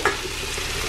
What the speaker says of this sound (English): Keep frying my sausages.